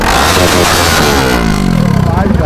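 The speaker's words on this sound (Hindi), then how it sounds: "अभी तो एग्जॉस्ट साउंड देख सकते हो भाई" Loud, close revving roar from a Bajaj Pulsar RS200 motorcycle fitted with an Akrapovic full-system exhaust, rising and falling in pitch through the whole burst.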